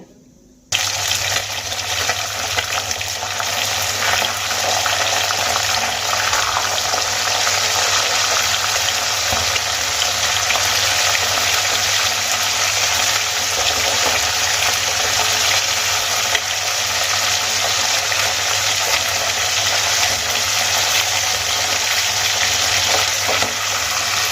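Tilapia fish heads frying in hot oil for a Bengali fish head curry, giving a dense, loud, close crackling sizzle that runs steadily throughout with no talking.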